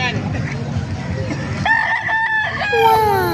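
Roosters at a chicken market in Calumpit, Bulacan crow in drawn-out calls near the end, over a busy background of clucking fowl and nearby voices.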